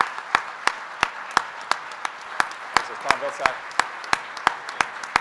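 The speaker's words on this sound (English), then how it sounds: "give him a round of applause as we welcome him to the federal fund" Sparse, distinct claps ring out at an official roundtable for energy secretaries as a speaker introduces himself; the single sharp hits keep coming under his voice instead of building into a full ovation.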